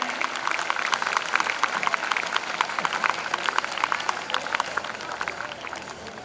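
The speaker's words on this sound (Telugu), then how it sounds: "కాబట్టి ప్రాంగణం అంతా మార్మోగేలా ఒక్కసారి గట్టిగా చప్పట్లు కొట్టండి." Crowd applause at a Telangana Formation Day celebration, with many hands clapping steadily and loudly throughout in a dense, continuous patter, free of speech.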